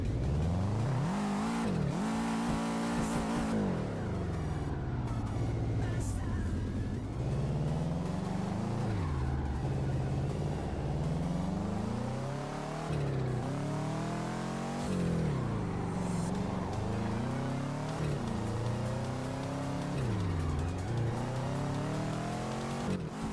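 Loud continuous car engine in the VR racing game Touge Shakai while drifting, revs rising and falling repeatedly as the tires slide through turns, steady and close with no gaps.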